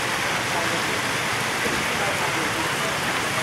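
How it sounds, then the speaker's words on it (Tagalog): Heavy, nonstop typhoon rain in Marinduque pours as a dense, steady broadband wash, loud and unbroken from start to finish with no distinct drops standing out. "Malakas na ulan at walang tigil na ulan"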